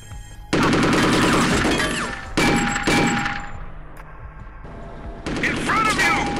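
Rapid bursts of automatic gunfire and clanging shots from the first-person shooter game Chaser, loud and dense in several volleys, with a brief quieter gap between them.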